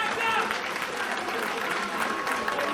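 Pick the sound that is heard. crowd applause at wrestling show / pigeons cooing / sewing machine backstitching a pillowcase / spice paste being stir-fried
crowd applause at wrestling show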